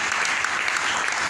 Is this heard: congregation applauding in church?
yes